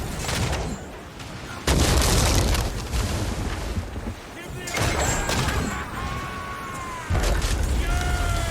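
Cannon fire strikes a sailing ship during an Assassin's Creed IV: Black Flag naval battle, with several heavy booming impacts and crashing bursts between calmer stretches, while voices shout over the noise.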